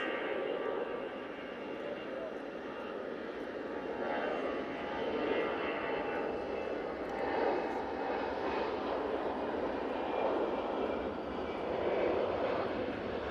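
An EasyJet Airbus A320 jet rumbles and roars steadily at Manchester Airport, heard from a distance with a broad engine drone while a person talks briefly over it.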